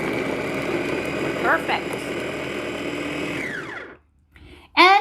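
Electric food chopper whirring steadily as it chops onions, a loud continuous motor drone with a rising pitch that spins down and stops, followed by a brief spoken word.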